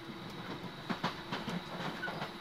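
A JR Kansai Airport/Kishuji Rapid train rumbles along the rails toward Osaka with soft rhythmic clicks and a steady low roar, heard from inside a carriage.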